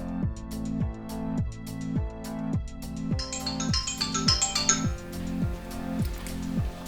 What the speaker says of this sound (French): Suzanne a bien reçu un appel de l'hôpital